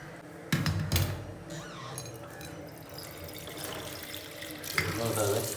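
Tap water running while gooseberries (amla) are rinsed for jam, a steady faint splash with two louder sloshing bursts near the start and another near the end.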